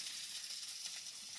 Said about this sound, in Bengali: তেলটা গরম হয়ে গেছে, এবারে দিয়ে দেব পেঁয়াজ, আদা, রসুন,